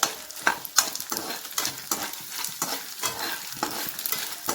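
Edible gum (dink) frying in a pan on a gas stove, rhythmic scraping stirs about twice a second over a soft crackling sizzle, close and moderately loud.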